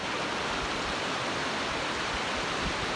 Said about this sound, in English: But I figured I'd go ahead and show you this waterfall.